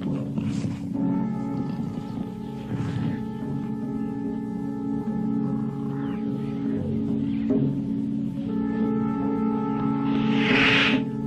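A king cobra facing a tiger cub gives long, breathy hisses over a steady low rumble in the wild, with a sharper, brighter hiss bursting out near the end.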